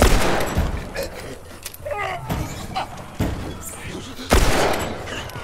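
Gunshots in The Last of Us Remastered on PS4, a few sharp reports spaced several seconds apart over a busy, noisy game mix with faint talk in the background.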